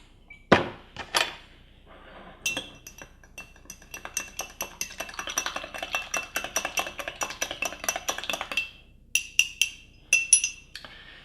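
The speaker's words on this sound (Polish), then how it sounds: "Wszystko dokładnie mieszam." A spoon clinks and rattles against a glass while stirring a hot toddy made with Jack Daniels Tennessee Honey, with a couple of sharp taps followed by a long stretch of rapid, close, bright clinking and a few final taps.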